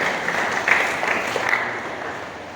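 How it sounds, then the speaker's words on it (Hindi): Steady applause from a church crowd, a dense wash of clapping that holds at an even level and fades slightly toward the end. "ताली बजाइए, कोई ताली बजाइए।"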